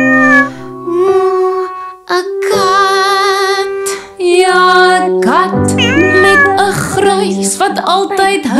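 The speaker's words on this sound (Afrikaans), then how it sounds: "En sê nou daar's 'n kat." A domestic cat meows repeatedly in a children's Afrikaans rhyme, with several drawn-out, tonal mews in close succession mixed with a voice and a musical backing, loud and near throughout.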